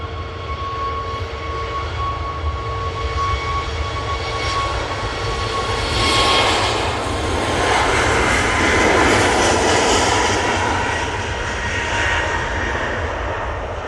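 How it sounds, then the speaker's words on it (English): Ryanair Boeing 737 MAX 8 jet taking off at Manchester Airport, a loud, steady engine roar with a strong low rumble and whine that swells in the middle and holds for the whole stretch. "And that Ryanair 737 MAX 8 is off to Cork."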